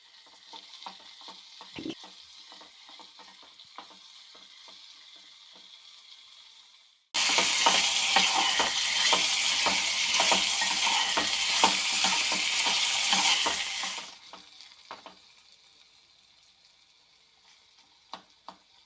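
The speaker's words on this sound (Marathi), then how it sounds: "कांदा चिरून घेतला होता तो त्यामध्ये घातला आणि हलकासा नरम पडेपर्यंत परतून घेतला" Chopped onion sizzles in hot tempering oil while being stirred for a banana flower dish, a quiet hiss with scraping that swells into a loud, steady sizzle midway, then eases back to a soft crackle.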